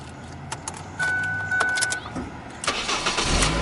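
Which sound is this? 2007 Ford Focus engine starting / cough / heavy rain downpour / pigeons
2007 Ford Focus engine starting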